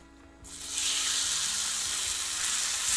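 Chicken frying in a pan, a loud hiss that starts abruptly when the food hits the oil and then holds as a steady, close sizzle.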